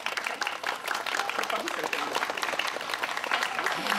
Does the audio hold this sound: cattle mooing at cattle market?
no